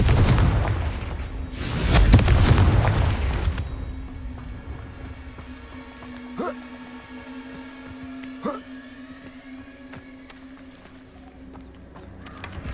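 A Confringo fire spell bursts in Hogwarts Legacy with a loud, broad, rumbling blast in the first few seconds, then fades into quieter game ambience with faint hoof-like clatter and a couple of sharp clicks.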